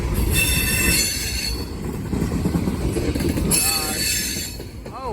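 A Norfolk Southern mixed freight train rolls north past close by, rumbling steadily while the wheels let out loud, high metallic squeals that come and go.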